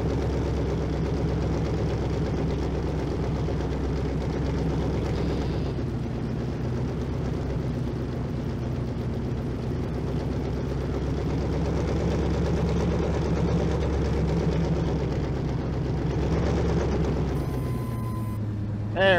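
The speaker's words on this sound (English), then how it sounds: "I gotta get that exhaust leak fixed on this thing. It is way too loud." In Farming Simulator 22, a heavy truck engine with an exhaust leak drones loudly and steadily at a low rumbling pitch while clearing snow, shifting slightly in tone near the end.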